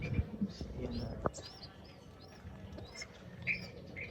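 Baby pigeons chirping as they are fed, with soft, scattered cheeps and faint squeaks under a low background murmur, including a brief sharp click.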